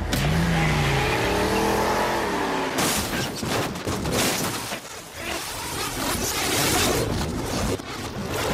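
Race cars in a video game rev and roar at loud, close range, with engines sweeping in pitch before shifting to a dense, gritty burst of engine noise and tire sounds.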